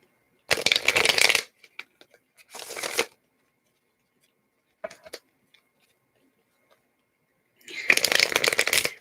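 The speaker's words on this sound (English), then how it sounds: "shuffle this deck" A tarot card deck being shuffled in three distinct bursts of riffling, each about a second long, close and crisp, separated by quiet pauses with a few small taps in between.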